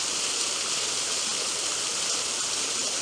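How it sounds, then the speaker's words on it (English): Waterfall in the woods, a steady, dense roar of falling water, loud and unbroken throughout with no voices. "from here we do get quite a dramatic view of the waterfall"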